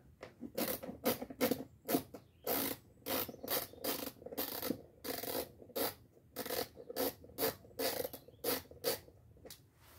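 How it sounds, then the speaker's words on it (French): Torx T20 screws are backed out of a rear brake light. Close, rapid ratcheting bursts come in quick rhythmic runs with short gaps between them. "On a 3 vis à dévisser ici. Donc, c'est des Torx T20."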